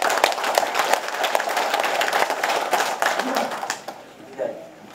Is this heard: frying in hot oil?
no